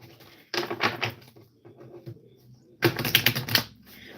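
Two bursts of rapid papery riffling as tarot cards are shuffled, separated by a quieter stretch of light handling sounds.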